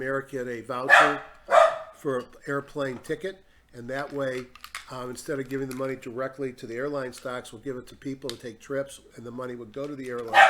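A dog lets out a few sharp barks near the start and again at the very end, partly over someone speaking steadily through the whole stretch.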